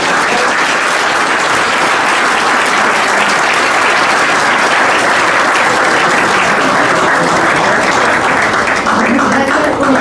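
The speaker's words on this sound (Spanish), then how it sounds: "Les pido por favor un fuerte aplauso." Loud, sustained applause fills a university hall after a debate on constitutional reforms, a thick, unbroken roar of many clapping hands with faint voices mixed in near the end.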